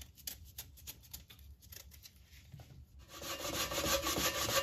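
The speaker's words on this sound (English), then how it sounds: "So I'm grating my sweet potatoes on the fine side of my grater." Peeled sweet potatoes rubbed against the fine side of a grater, making quick rasping strokes that turn into a louder, continuous scraping toward the end, close and alone.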